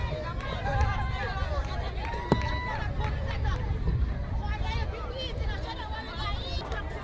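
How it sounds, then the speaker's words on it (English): Spectators at a primary school relay festival chatter and murmur together in a continuous outdoor babble, with overlapping voices and occasional shouts rising from the steady crowd noise. "it's a little crowd has built up really nicely here"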